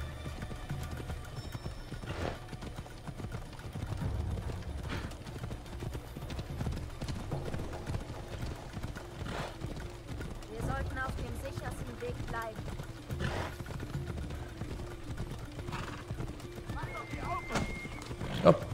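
Horse hooves clip-clop steadily through a city gate in the video game Assassin's Creed Odyssey, a continuous close rhythmic trotting under game ambience, with a brief whinny-like sound.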